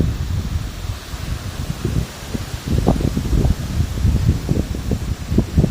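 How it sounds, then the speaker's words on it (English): Strong gusts from an early morning windstorm sweep through leaves, making a continuous, loud rustling roar with rising surges, heard alone and up close to the microphone. "big wind here blowing."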